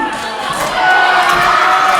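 A large wrestling crowd at a New Japan Pro-Wrestling event in Auckland roars and cheers continuously, a dense, loud wall of voices that swells slightly and holds steady throughout.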